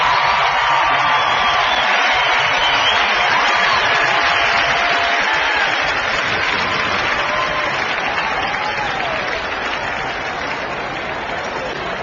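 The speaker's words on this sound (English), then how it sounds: "Listen to the crowd still." Huge racetrack crowd at the 2009 Breeders' Cup roars and applauds in a sustained, loud, dense wall of cheering that barely eases over the stretch, with faint calls drifting through.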